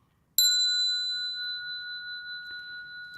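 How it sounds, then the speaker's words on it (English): A single bright bell is struck once and rings on with a clear, pure sustained tone that slowly fades and lingers across the whole stretch, alone in a quiet room. "Here's the bell. It's a nice bell. It rings on and on."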